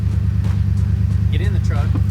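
A 2011-2014 Ford F-150 pickup, started by remote start, runs with a steady low engine rumble close by, while a person talks over it.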